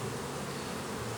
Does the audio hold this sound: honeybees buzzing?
yes